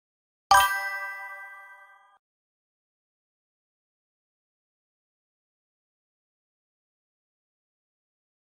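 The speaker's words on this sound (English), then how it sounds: "Heard a notification of a message come up, but nothing came up." A single message notification ding rings out clearly, a bright chime that fades over about a second and a half, followed by silence.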